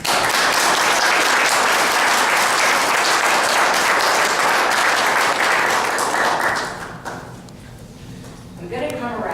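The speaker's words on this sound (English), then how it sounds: "I'd like to give them a round of applause." A loud round of applause fills a village board meeting hall, steady clapping from the assembled room for roughly seven seconds before fading into scattered claps and murmuring voices.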